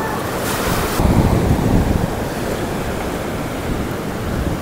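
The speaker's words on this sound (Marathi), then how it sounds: "हे बघा किती लाटा उचलत आहेत" Sea waves surge and crash continuously against the shore of a coastal village beneath hills, a loud, dense roar swelling around the first seconds, with wind buffeting the microphone throughout.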